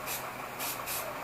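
Short hissing bursts of an aerosol spray can spraying paint onto a fuzzy foam puppet, two or three spritzes in quick succession, close up and fairly loud.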